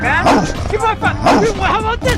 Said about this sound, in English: They've just overlaid angry dog sounds.